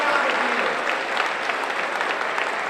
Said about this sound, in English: Professor Legoo, please stand up for a round of applause.